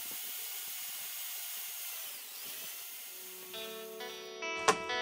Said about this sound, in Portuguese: Agora eu vou fazer a perfuração nessas tampinhas de alumínio.